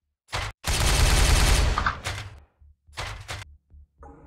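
Gunfire in the Warhammer 40,000: Regicide video game: a sustained burst of rapid shots, followed by several shorter bursts and single cracks separated by gaps of silence.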